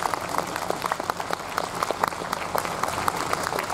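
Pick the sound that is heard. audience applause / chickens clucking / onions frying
audience applause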